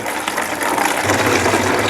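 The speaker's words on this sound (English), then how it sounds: "fill the container with water" Water poured from a gallon milk jug into a gravity-fed pet water dispenser makes a continuous splashing gush, and a deeper filling tone rises partway through as the container takes on water.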